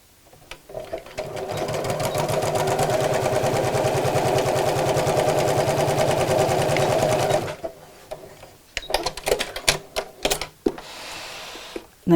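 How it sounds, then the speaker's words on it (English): A sewing machine runs steadily for several seconds, stitching straight across a quarter-inch seam on a fabric make-up organizer, then stops, followed by a few light clicks and handling noises. "using a 1/4 inch seam allowance, sew straight across"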